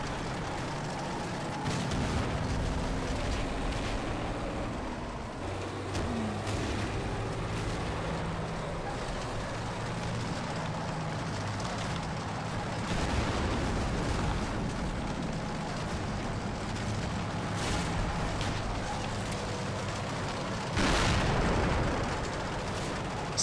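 A tank cannon fires a single loud, booming shot in a video game tank battle, rising out of continuous rumbling engine and battle noise, with other dull distant blasts scattered through.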